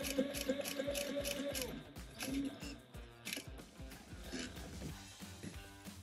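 A Sailrite Fabricator sewing machine stitches slowly through thick material, giving close repeated mechanical clicks and clunks in a steady rhythm that slows slightly toward the end.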